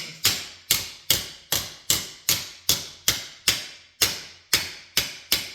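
A shrinker tool forms a steel quarter panel for a 1966 Chevrolet Impala SS, striking with about a dozen sharp, loud metallic whacks at a steady rhythm, each ringing briefly before the next.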